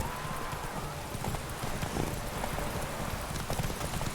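Horse hooves pound in rapid galloping rhythm in The Witcher 3 video game, a steady run of close, moderately loud clip-clop beats under faint background sound, without speech.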